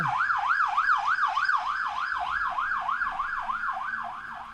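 Emergency vehicles drive past on a street with a wailing siren sweeping up and down in a fast regular cycle, loud and close at first, then slowly fading as they move off, no talk.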